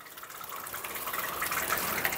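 Water from a garden hose gushing through the coolant reservoir of a VW Gol, a steady splashing flow that slowly grows louder, heard close with no talking.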